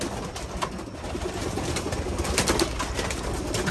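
Pet pigeons coo steadily among a fancier's birds, a dense, continuous murmur of calls over hissy background noise.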